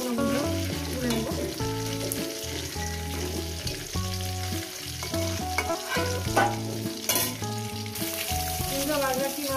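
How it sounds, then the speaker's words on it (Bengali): Katla fish pieces sizzle and are stirred in a frying pan, a soft, steady crackle running beneath loud background music. "মাছগুলো আমার ভাজা হয়ে গেছে, বেশি কড়া করবো না"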